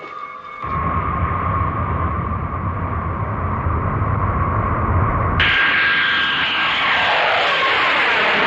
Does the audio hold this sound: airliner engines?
yes